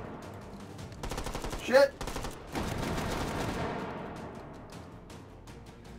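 Rapid automatic gunfire in the H3VR virtual-reality shooter rattles out in long bursts that fade toward the end. A voice swears once partway through.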